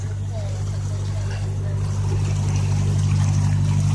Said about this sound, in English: The engine just pushing it along